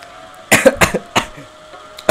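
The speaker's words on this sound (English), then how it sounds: "I'm coughing on my spit." Several sharp, close coughs in a quick burst, followed by a couple more isolated coughs after a short pause.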